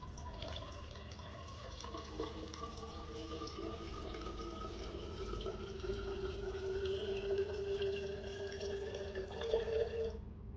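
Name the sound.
water pouring out of a water bottle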